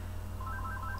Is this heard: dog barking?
no